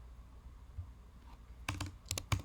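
A computer keyboard is typed on in quick bursts while timecode is entered in Logic, with several sharp close clicks near the end after a quiet start.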